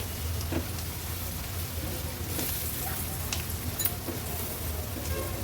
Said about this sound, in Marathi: हळद आणि मसाला तेलावर छान परतून घ्यायचे